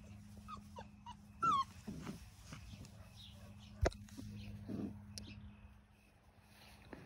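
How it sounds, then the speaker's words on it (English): Four-week-old black puppies make soft whimpers, a few high yips and low growls nearby, faint and scattered over a quiet background hum. "Puppy, puppy, puppies."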